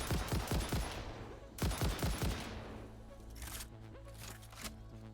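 Rapid bursts of automatic gunfire in the video game Satisfactory, two loud clusters of quick shots in the first half, then quieter scattered in-game sounds over a low background hum.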